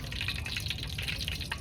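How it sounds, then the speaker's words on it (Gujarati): Heavy rain falls steadily, a dense, continuous hiss of drops and splashing water nearby, with no break across the whole stretch. "હવે છે ને અમારા અહીંયા હારામાં હારો વરસાદ છે"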